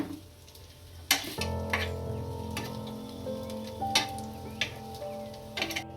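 Steady sizzling of sabudana vada frying in oil, with a few sharp clicks and clatters from utensils scattered throughout.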